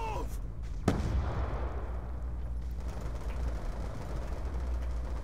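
Grenade blast in Black Ops 2 on PC: one sharp, loud explosive crack early on, then a long rumbling, noisy tail of battlefield ambience with distant gunfire.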